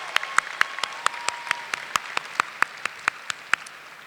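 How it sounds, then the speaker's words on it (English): An audience at a high school event applauds teachers and staff: a soft, steady wash of clapping, with sharp, evenly spaced single claps standing out close by. "let's show our teachers, our staff, our administrators, how much we care for them with our most enthusiastic applause of appreciation"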